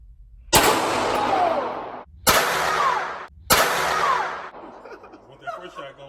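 Three loud gunshots at a shooting range, each a sharp crack followed by a long booming echo that fades over about a second, spaced unevenly with a short gap between the last two.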